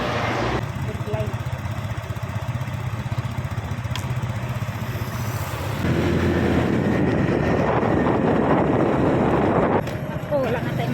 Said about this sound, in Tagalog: Dalhin ko kayo magmotor.